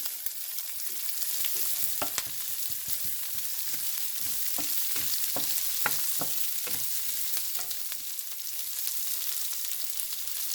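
Onions frying in oil with ginger for prawn fried rice, a continuous sizzle broken by repeated clicks and knocks of a utensil stirring in the pan, close up and without speech.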